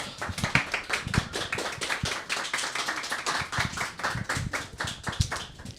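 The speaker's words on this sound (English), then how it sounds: "Give them a big applause." Audience clapping welcomes two speakers at a radio talk event, moderately loud and dense with distinct individual claps, swelling and easing across the few seconds with no voices over it.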